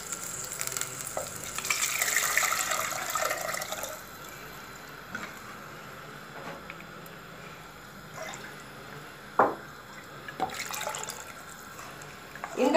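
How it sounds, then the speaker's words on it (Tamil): Tamarind water poured into a frying base for Nethili Meen Kulambu, a South Indian anchovy fish curry, hissing in a loud sizzle that settles into a quieter simmer with occasional stirring and drips. "இப்போ வந்து நம்ம கரைச்சி வச்ச இந்த புளி தண்ணியை வந்து நம்ம இதில் சேர்க்குறோங்க."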